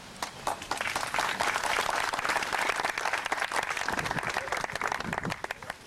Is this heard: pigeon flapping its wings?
no